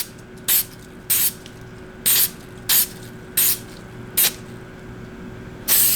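Short, sharp hissing bursts of oil are sprayed onto an ATV air filter to give it a light coating. There are seven quick sprays at uneven intervals, close up, with quiet gaps between them and no talking.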